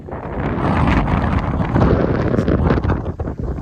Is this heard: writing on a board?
no